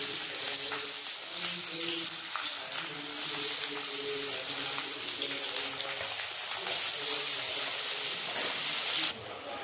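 Hot oil sizzles loudly in a pan with panch phoron, bay leaf and green chillies as onions go in, a dense, steady frying hiss that runs throughout and drops slightly at the very end.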